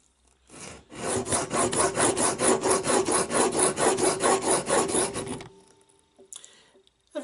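A blade being honed by hand, worked backwards and forwards in steady rasping strokes, about a dozen even passes close up before stopping, followed by a faint knock.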